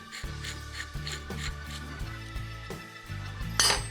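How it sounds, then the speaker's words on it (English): A nut is tightened on a Harley-Davidson 4-speed ratchet-top transmission, giving a steady rhythm of metallic ratcheting strokes roughly every half second, close and clear with no talking. "we'll just tighten our nut on here to give you an idea"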